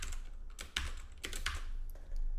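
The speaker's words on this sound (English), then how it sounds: "Type in connection strings." Bursts of quick key clicks on a computer keyboard while typing connection strings into a settings file, close and clear, in several uneven flurries with short pauses between them.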